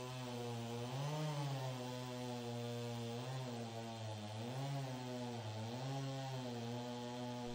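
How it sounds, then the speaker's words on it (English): A chainsaw mounted on a timber jig slices through the core of a log, its engine droning loudly and steadily with slight pitch wavers as it cuts, no voices. "For finer cuts, the timber jig guided by the previously sawn surface is used to slice the core of the"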